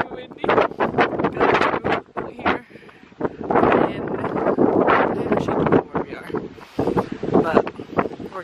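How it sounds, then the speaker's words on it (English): Strong gusts of wind buffet the microphone outdoors at a winery, roaring in loud uneven bursts with brief lulls, while people talk over it. "It's very windy."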